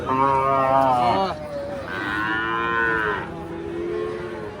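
Cattle mooing at a busy calf market in Bangladesh, several loud, close, drawn-out bellows in succession over a crowd murmur.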